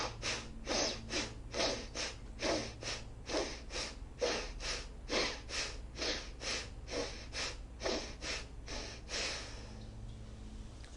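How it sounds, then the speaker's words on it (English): Bhastrika yoga breathing: quick, forceful inhalations and exhalations through the nose in a steady rapid rhythm, about two per second, close and clear with no talking, ending in a softer breath. "So Bhastrika breath is quick inhalations and exhalations through the nose"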